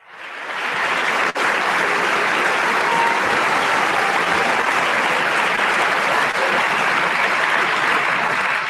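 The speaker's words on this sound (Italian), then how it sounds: "l'ultima caterva di fluenti, copiosi, spontanei, sinceri, caldi, partecipati. Applausi." Sustained, loud audience applause from a studio crowd on an Italian radio call-in show, a dense steady patter of clapping that fills the whole stretch without pause.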